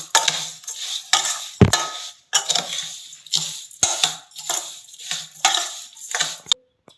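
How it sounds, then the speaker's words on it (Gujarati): Chopped raw mango and sugar being stirred in a pan, close and fairly loud, with repeated scraping strokes and sharp clinks of a spoon against the pan in an uneven rhythm. "હવે આપણે ખાંડ લીધી છે એ એડ કરી દઈશું એમાં. બધું સરસ રીતે મિક્સ કરી લેશું."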